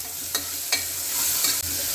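Smashed onion and green chili frying in a pan for a traditional North Karnataka dish, with a steady close sizzle and a few brief scraping stirs.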